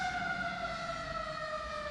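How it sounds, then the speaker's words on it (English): A Trenton Fire Department fire engine siren wails steadily in the distance, a sustained tone with strong harmonics sliding slowly downward, fairly faint and heard alone. "They turn on the sirens just for us."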